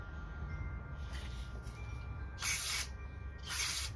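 Several short hissing bursts of aerosol carburetor cleaner, cleaning a dowel pin hole in a Cummins 6BT diesel engine, the last two loudest, close by against a quiet background.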